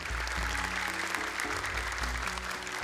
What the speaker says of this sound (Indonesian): Tepuk tangan dong untuk Naufal.